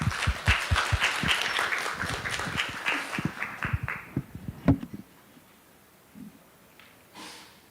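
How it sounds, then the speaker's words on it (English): An audience at an AI symposium claps to welcome a presenter, a burst of dense applause that thins into scattered claps and fades to near silence after about five seconds. "Please give him a warm round of applause."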